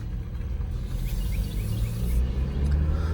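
Jeep Wrangler 2021 4xe plug-in hybrid on a test drive, its low steady road rumble and engine drone continuous and fairly loud throughout, with no talking.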